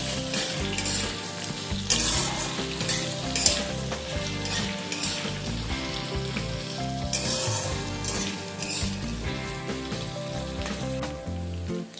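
Potato and carrot pieces fry lightly in oil in a pan for a mixed vegetable curry, a steady loud sizzle with intermittent stirring and scraping bursts, close and continuous without voices.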